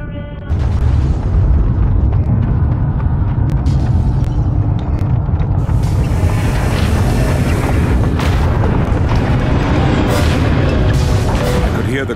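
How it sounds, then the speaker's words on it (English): Heavy mechanical footfalls of the alien war machines in The War of the Worlds Xbox 360 game, deep booming thumps over a dense rumbling game soundtrack, loud and continuous throughout. "The great thump of their mechanical legs smashing down behind me."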